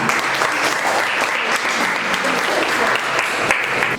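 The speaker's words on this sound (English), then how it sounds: "So put a round of applause for Nigerian Institute of Soil Science." A school audience applauds during a World Soil Day visit in Abuja, a dense, steady clapping from a crowd of students that holds at an even level from start to finish.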